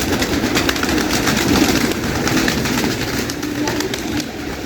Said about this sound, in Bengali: আবার কবুতরগুলো ঢুকে ঢুকছে ভিতরে আবার খাবার দেওয়ার জন্য দেখেন বাইরে চলে আসবে